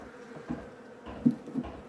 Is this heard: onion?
no